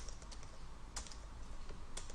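Keys clack on a computer keyboard during PHP programming, a few scattered taps over about two seconds, faint and close, with no talking.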